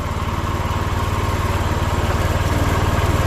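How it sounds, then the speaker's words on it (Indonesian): A Honda Beat FI scooter with an ECU fault runs at a steady, close idle, its low engine pulses chugging evenly throughout with no talk. "Oke, ini dia kita hidupkan."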